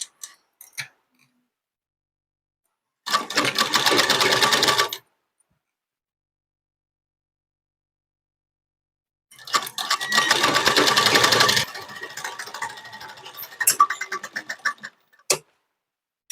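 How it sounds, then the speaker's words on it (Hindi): A sewing machine runs in two short bursts of rapid, even stitching while a sleeve is double-stitched, with quiet pauses and a few clicks between runs. "इसमें हम डबल सिलाई लगाएंगे ताकि स्लीप जल्दी खुले ना"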